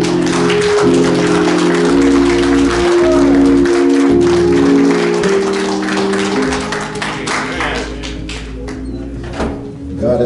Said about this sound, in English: let's give her another hand of applause for that MLK moment